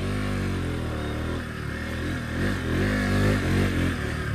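A Bajaj Pulsar RS200 motorcycle climbs uphill with its front end lifting, the engine a steady, strained drone that swells slightly toward the end, with wind rushing past.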